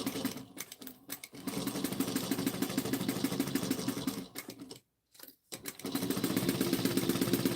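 A sewing machine with a compound walking foot back-stitches a quarter-inch seam on slippery fabric, right sides together, running in a steady loud mechanical chatter with two brief pauses near the end.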